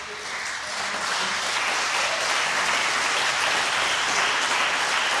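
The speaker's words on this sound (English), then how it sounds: "The applause is for Mark Allen, the world number three." Sustained applause from a snooker crowd greeting player Mark Allen at the British Open, a dense steady wash of clapping that holds at full strength throughout.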